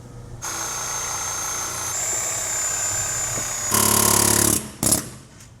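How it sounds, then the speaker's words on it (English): A Sawzall reciprocating saw cuts a slit in a rusty BMW part, buzzing steadily and close, then surging louder near the end before two short final bursts. "just put a little slit in it with a Sawzall"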